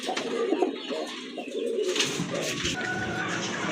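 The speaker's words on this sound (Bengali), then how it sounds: "আরেক জোড়া কবুতর" Fancy pigeons for sale, including a Shua Chandan pair, coo in low rolling bursts close by, with a steady murmur of birds behind them throughout.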